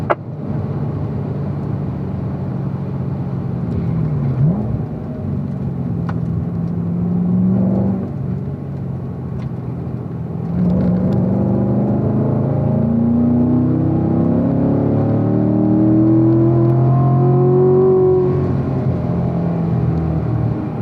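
A Corvette race car holds fourth gear around a racing school track, its engine a steady droning rumble with rising and falling pitch sweeps as it pulls through corners, continuous and fairly loud with no voices.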